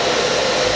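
A handheld hair dryer blowing steadily while hair is being blow-dried after a styling cream, a loud, continuous close airy whoosh with no pauses.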